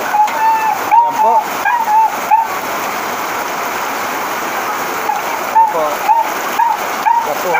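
Heavy rain pouring during a flood that has turned the area into a river, a dense steady rushing hiss of water with a voice talking over it.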